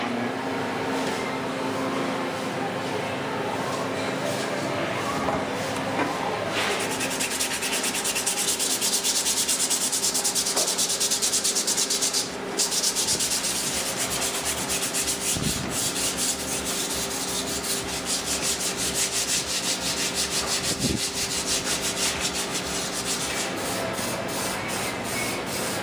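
Bondo body filler mixed with hardener is spread over a car dash panel for a double-DIN radio mount, giving a continuous scraping, rubbing sound with a faint steady hum behind it.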